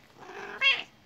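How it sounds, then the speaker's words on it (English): A pet cat gives a short, close meow that swells briefly over a soft, continuous purr. "so that's my cat bugging me"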